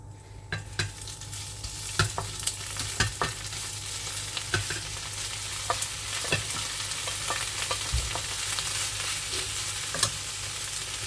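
Green beans frying in hot oil, a bright continuous crackling sizzle with frequent sharp pops and spatters, close and fairly steady throughout.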